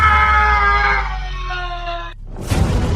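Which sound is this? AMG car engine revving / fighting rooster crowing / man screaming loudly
man screaming loudly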